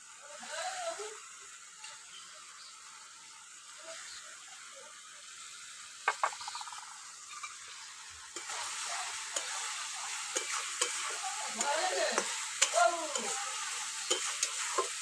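Spice masala for chicken kosha frying and being stirred in a pan over a strong fire, a soft, fairly faint sizzle with occasional scraping knocks that grows busier and crackly in the second half.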